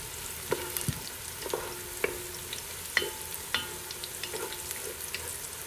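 Onions fry in a pan for an Anglo-Indian trotter curry, giving a soft, steady sizzle close by. Sharp clinks and taps from stirring break through it every second or so.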